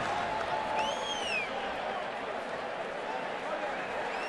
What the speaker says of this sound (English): Opening night crowd